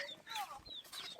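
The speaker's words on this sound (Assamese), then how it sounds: "এই জংগলী মুৰ্গী" Wild jungle fowl in the Poba rainforest reserve give a brief, faint series of high, thin calls, heard at a distance with no talking over them.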